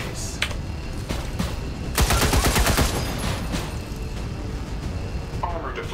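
Bursts of gunfire from the XCOM 2 video game, a dense rattling volley peaking in the middle of the clip, with scattered shots before and after, heard under a continuing game soundtrack and background noise.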